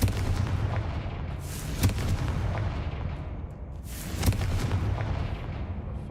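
Spiders casting the Confringo explosion spell in Hogwarts Legacy: two loud booming bursts a couple of seconds apart over a dense, rumbling game soundscape.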